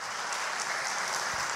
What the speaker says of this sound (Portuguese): Você pode aplaudir o Senhor Jesus por causa disso?